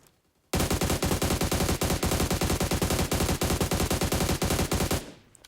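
Sustained automatic gunfire at a boss in PUBG Metro Royale, a loud, rapid, evenly spaced burst of shots lasting about four and a half seconds, then trailing off.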